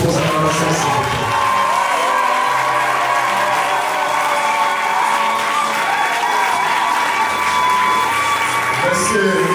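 Wedding guests at a civil ceremony cheer and applaud after the couple is declared husband and wife, a dense, steady wash of clapping and cheering voices that holds for the whole stretch.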